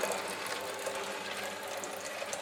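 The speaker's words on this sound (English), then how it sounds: "I'm literally just going to pour some water in there, and you'll see that that's basically" Water runs through a juicer during cleaning, giving a steady, soft rushing and trickling wash with faint mechanical rattle throughout, close and continuous.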